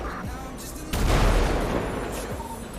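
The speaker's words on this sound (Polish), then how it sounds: "Wybuch!" A sudden loud boom from a power plant explosion in the GTA V roleplay game, breaking into a dense rumbling roar that slowly fades under steady background noise.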